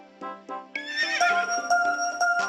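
A horse neighs in the 3DS video game I Love My Horse: a long, bright whinny follows a few short snorting calls and a soft clip-clop, all fairly close and alone.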